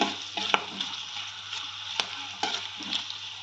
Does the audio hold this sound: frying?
yes